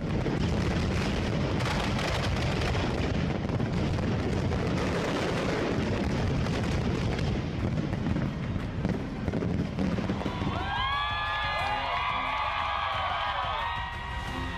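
A continuous roaring rumble gives way to crackling, whistling sounds as a firework shell launches from a mortar, loud and close with sustained noise throughout.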